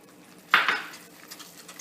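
A spoon scrapes and clinks against a pot while shredded mozzarella is stirred into a seafood mac and cheese sauce, one short clatter followed by faint stirring scrapes, near and quiet.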